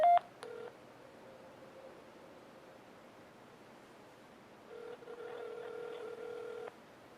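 Telephone keypad tones beep at the start of a test call on a Samsung Intensity II phone on Verizon, followed by a steady two-tone signal over a soft hiss on the line, near and clear.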